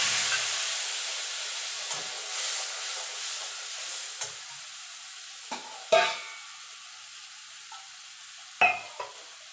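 Whole garam masala and spice paste frying in hot oil, a faint steady sizzle with a few louder stirring scrapes and clinks of a spoon against the pan, no talking.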